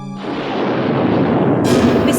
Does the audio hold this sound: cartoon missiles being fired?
yes